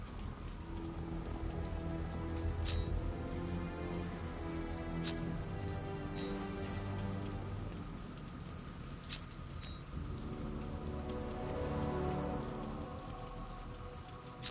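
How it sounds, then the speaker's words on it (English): Continuous video game rain on PS4 patters steadily over a low background hum, with a few sharp drip-like clicks standing out here and there; even and fairly quiet throughout. "What's with all the rain?"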